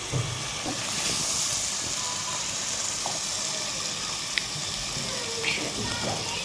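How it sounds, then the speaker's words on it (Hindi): Yogurt, one cup, poured into spices already fried in a pan for chana dal kofta curry, frying with a steady broadband sizzle and hiss that holds for several seconds at moderate level. "एक कप दही और डाल दी इसके अंदर, और अच्छे से इसको फ्राई कर लेंगे"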